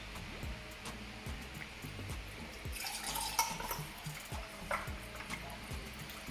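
Faint Jamaican natural juice blend poured into a container over ice, a brief splashing trickle in the middle amid quiet drips and small clinks.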